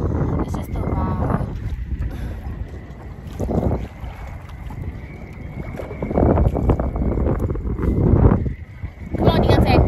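Steady wind roars and buffets the microphone while canoeing outdoors, loud and continuous, with people talking over it.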